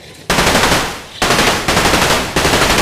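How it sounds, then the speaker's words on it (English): Rapid machine-gun fire rattles in long, loud, continuous bursts with brief pauses between them, dense and close, mixed with a fast drumming of shots. "Today I'm running for my life because I'm currently being shot at."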